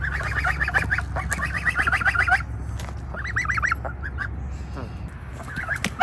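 Month-old geese honk in rapid nasal bursts, several calls in quick series, close by, over a low steady rumble.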